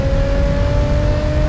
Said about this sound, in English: With the variable valve active exhaust system enhancing performance capability